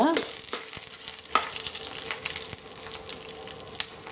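Guntur red chillies and green chillies roasting on a low flame, with a soft, steady sizzle broken by a few scraping stirs and light clicks, close and moderately quiet, with no speech.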